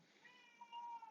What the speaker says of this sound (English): That's my cat, just ignore him.